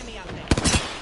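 Apex Legends gunfire: a quick cluster of two or three sharp shots, close and loud, with a voice talking underneath.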